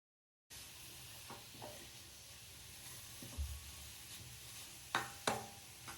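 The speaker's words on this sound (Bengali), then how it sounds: "আমি এখন আস্তে আস্তে গুড়টাকে গলানোর চেষ্টা করছি" Jaggery melting slowly in a pan over a low flame gives a soft, steady sizzle and hiss, broken by a few louder clinks and scrapes of stirring.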